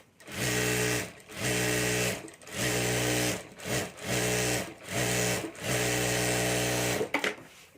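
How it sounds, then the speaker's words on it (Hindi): An electric sewing machine stitches a handmade Banjara bag up close, running in loud bursts of rapid whirring of about a second each, separated by brief pauses, with no speech. "और अभी यहाँ भी हमें सिलाई कर लेनी है, तो यहाँ भी मैं सिलाई कर देता हूँ।"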